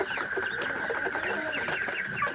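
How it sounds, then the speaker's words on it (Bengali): A tiger breed chicken on a poultry farm clucks close by in a short run of repeated calls over a busy background of other birds. "যদি আমার এই যে মুরগিটাকে আপনারা দেখেন"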